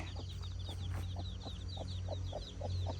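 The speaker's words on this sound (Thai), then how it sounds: "ไก่ลูกคอกมาเลยทุกคนท่านี้" Young chickens cluck in a series of short, evenly spaced calls on a farm where cow dung is gathered for fertiliser, set over a steady low hum and with higher chirps in the background.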